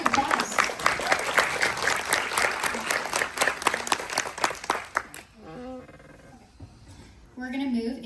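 Audience applause at a political candidate forum, dense clapping for about five seconds that fades out, followed by a voice speaking.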